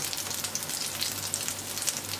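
Something frying in a small pan during a breakfast recipe, steady soft sizzling and crackling throughout, fairly faint with no voices.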